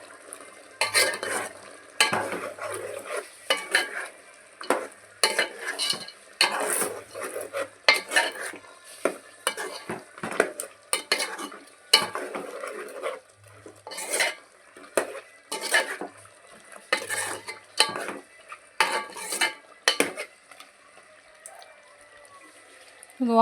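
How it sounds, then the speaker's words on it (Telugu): A spoon scrapes and clatters repeatedly against a metal pot while farm chicken is mixed with salt and turmeric, an irregular series of sharp stirring knocks with faint sizzling beneath. "అయితే అన్నీ కలిపేసుకుందామండి."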